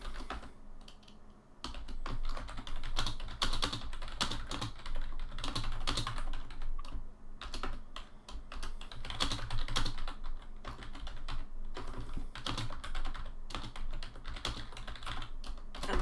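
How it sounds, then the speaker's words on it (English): Someone types on a computer keyboard in quick irregular bursts of close, clattering keystrokes, with a brief pause near the start and another around the middle, and no one speaking. "I'm typing back and forth"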